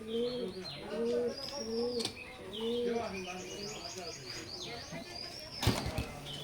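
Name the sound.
Oman blood line teddy pigeon pair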